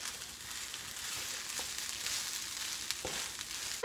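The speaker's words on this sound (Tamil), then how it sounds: "இப்போ சாப்பாடை நல்லா கலக்கலாங்க." Cooked rice being mixed in a hot pan for a lunchbox variety rice, with an even, hissing sizzle and faint soft scraping of stirring throughout, and a small knock near the end.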